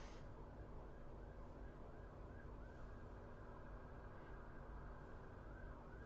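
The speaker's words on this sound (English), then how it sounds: "there's a siren going off, passing by the house" A faint, distant emergency siren wails as it passes a house, its rising and falling tone barely above steady background hiss, with no voices.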